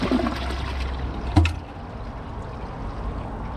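An American Standard Champion 4 toilet on its second flush gives a rushing, gurgling drain of water with a sharp clunk partway through, then fades to a quieter trickle.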